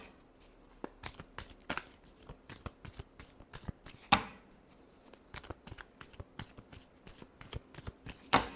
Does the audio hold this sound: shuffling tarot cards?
yes